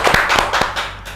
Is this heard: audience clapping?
yes